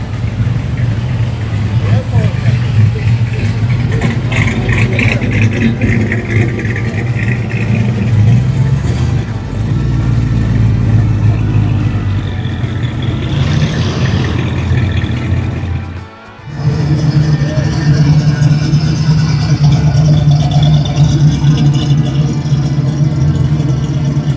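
A car engine revving hard at a Run to the Sun car show in Myrtle Beach, third gear locked out, a loud sustained drone that dips briefly near the end before roaring back, with crowd chatter beneath it.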